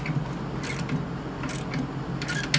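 A wrench works a bolt on a pool pump in short bursts of ratcheting clicks and metallic creaks, close and fairly quiet, separated by brief pauses.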